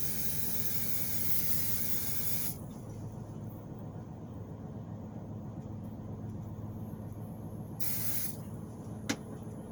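Cooking oil spray greasing an Instant Pot, a close steady hiss for about two and a half seconds, a quiet pause, then a second short burst of spray near the end.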